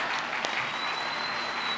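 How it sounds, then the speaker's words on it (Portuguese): Brief burst of audience applause at a PHP community tech conference, dense steady clapping from a crowd with a thin tone lingering in the background. "Salve de palmas, pessoal"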